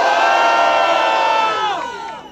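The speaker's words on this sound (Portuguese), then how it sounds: "Quem acha que o Big P levou, faz barulho!" A large crowd at a Brazilian rap battle cheers and shouts loudly and steadily, the roar tapering off slightly near the end.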